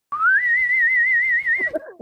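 A person whistles a long, steady rising note with a gentle wavering vibrato, imitating the Star Trek theme whistle. Brief low voice sounds follow once the whistle ends.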